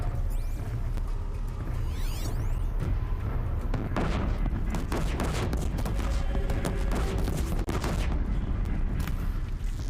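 Turret gunfire in the video game Horizon Zero Dawn: a continuous barrage of shots and booms with mechanical clatter, dense and loud throughout the fight.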